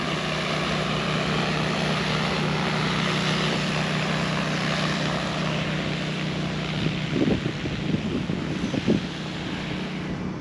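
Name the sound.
agricultural spray drone flying over crop canopy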